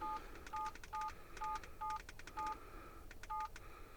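A Vantrue S1 Pro Max dash cam sounds a short electronic beep with each menu button press, about eight evenly spaced beeps in a steady rhythm, clear and close over a faint background hiss.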